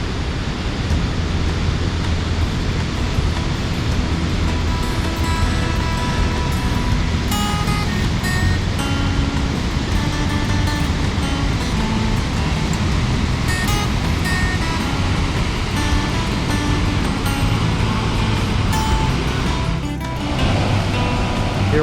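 Cumberland Falls heard from the bottom of the falls, a loud, unbroken roar of powerful crashing water filling the air close by, steady and dense throughout.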